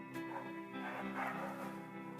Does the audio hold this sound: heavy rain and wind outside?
no